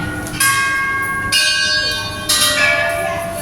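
A bell at a Lao Buddhist merit-making ceremony is struck three times, each loud, bright, ringing strike hanging on and fading before the next, about a second apart.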